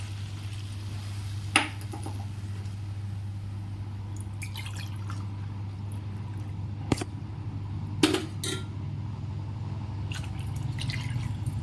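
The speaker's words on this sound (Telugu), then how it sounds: "ఇప్పుడు మనం ఇందులోకి రైస్ని ఉడికించుకోవడానికి వాటర్ని అయితే యాడ్ చేసుకుందాం" A few scattered drips and clinks of water poured into a pot of brown rice and mushroom pulao over a steady low hum, quiet and close, with long gaps between them.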